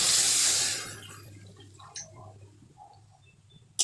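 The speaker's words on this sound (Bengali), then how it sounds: "সেই মশলা ধোয়া জলটা এবার দিয়ে দেবো" Water used to rinse spices is poured into meat cooking in a pot, making a loud gushing splash for under a second that quickly fades to a low simmering hum with small bubbling ticks.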